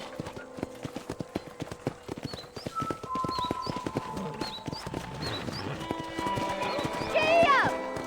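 Rhythmic hoofbeats of a galloping horse in the video game Red Dead Redemption clip-clop steadily over talk at a ranch, with bird chirps and a horse whinny near the end, close and moderately loud.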